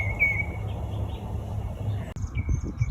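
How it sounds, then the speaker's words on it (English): A wild bird gives a simple call outdoors, a few thin chirps at moderate distance over a low rumbling background of wind or distant noise, with faint insect-like hiss. "Here's one giving a simple call."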